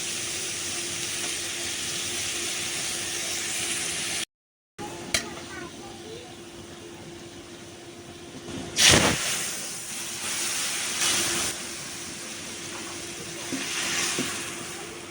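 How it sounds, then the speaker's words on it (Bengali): Dal being tempered (baghar) in hot oil on high heat, giving a steady broad sizzle and hiss throughout, with a brief dropout and a louder burst of spitting midway. "ডালটা বাগার করে নিলাম"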